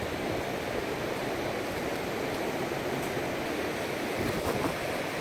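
Ocean surf at Cannon Beach rushes in a dense, continuous wash of breaking waves at high tide, loud and even throughout with no voices.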